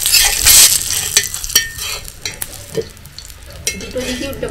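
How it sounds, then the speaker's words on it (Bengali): A semolina and potato breakfast snack fries in a pan, with a loud burst of sizzling at the start, then steady frying crackle broken by sharp clicks and scrapes as pieces are turned. "দুটো দিকে উল্টে পাল্টে ভেজে নিয়েছি"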